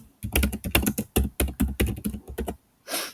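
Close, crisp keystrokes on a computer keyboard arrive in quick irregular bursts of clicks while code is being typed, then stop after a short pause and a final soft rustle.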